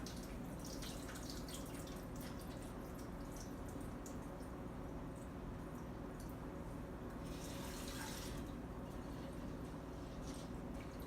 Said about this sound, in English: Just kind of pour the water off.